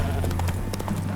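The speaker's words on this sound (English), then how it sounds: "Spooking my horse." Horse hooves clip-clop in The Witcher 3 video game, a quick series of close hoof taps over a steady low hum of game ambience.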